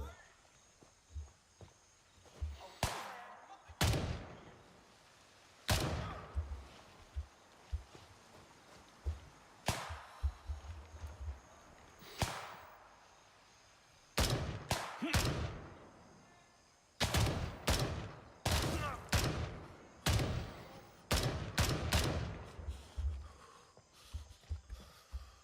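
Gunfire in the video game Gray Zone Warfare, in the Lamang area: loud, sharp shots that come singly and in rapid clustered bursts, separated by quieter stretches of ambient game sound.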